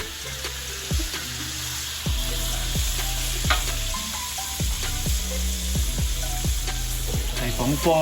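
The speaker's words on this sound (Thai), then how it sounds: "พอหมูเริ่มจะใกล้จะสุกเราก็ใส่ไข่" Eggs sizzling and frying with pork in a hot pan for Thai pork fried rice, a steady loud crackle with repeated scraping stirs of a spatula; someone speaks briefly over it.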